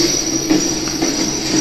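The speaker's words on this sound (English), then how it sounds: "Here's the train beyond the turnout waiting to back into the local industries." Model railroad train cars rolling past a turnout on a layout, a steady close rumble of wheels on track with a high whining tone running throughout, with no voices.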